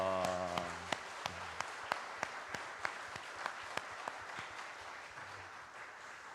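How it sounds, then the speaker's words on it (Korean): A church congregation at a thanksgiving worship service applauds, soft and somewhat distant, with a few sharp, regularly spaced claps standing out above the steady patter. A voice or music tone fades at the start. "한번 박수로 격려해 드리겠습니다"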